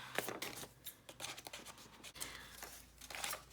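Paper being cut around a piece for journal decoupage, a close, quiet series of short snipping and rustling sounds with small pauses between them.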